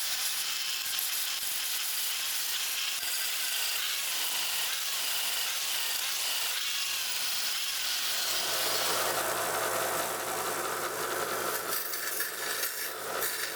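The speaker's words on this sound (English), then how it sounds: "Then a bit of work with a grinding disc and flap wheel." A grinding disc and flap wheel work over a machete made from a saw blade, producing a continuous loud harsh abrasive roar that shifts in pitch partway through, with no one talking.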